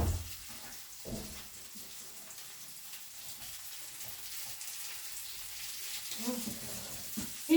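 Köfte meatballs cook in a pan without added oil, giving a soft steady sizzle heard close under faint kitchen clatter, with a brief scrape near the end.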